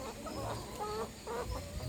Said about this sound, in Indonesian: Ya begitulah ayam bertelur.